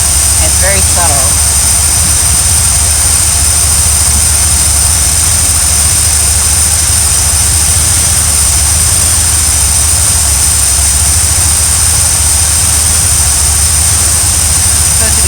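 An RV engine running slightly rough produces a loud, continuous low drone that holds steady for the whole stretch, with no clear breaks or pauses.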